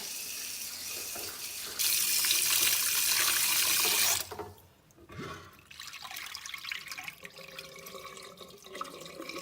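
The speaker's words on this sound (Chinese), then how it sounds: "放着水洗一下" Tap water running into a kitchen sink while pork is rinsed, a loud steady stream for a couple of seconds, then quieter splashing and handling of the meat in the water.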